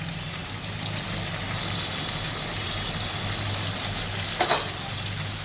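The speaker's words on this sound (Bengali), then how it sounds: "দিয়ে পেঁয়াজটাকে মিনিট 2 মতন আমি ভেজে নেব" Chopped onion sizzles with shrimp in a frying pan, a steady, even crackling hiss that runs unbroken over a low background hum, with one brief utensil clink near the end.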